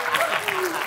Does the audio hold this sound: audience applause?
yes